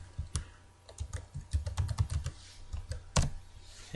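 Someone types a password on a computer keyboard: a quick run of close, crisp key clicks of varying loudness, ending with a firmer keystroke, with no talking.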